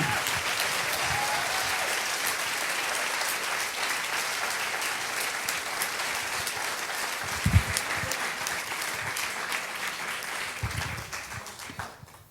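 A jazz performance audience gives a musician a long, steady round of applause, dense clapping from many hands at an even level, with a couple of brief thumps before it fades slightly near the end.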